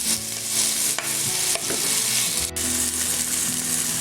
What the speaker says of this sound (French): On va prendre 2 minutes aussi de cuisson pour les champignons.